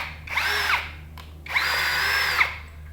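An APR power drill whirs in two bursts, spinning up and holding a steady high whine before winding down, close and loud in a quiet room.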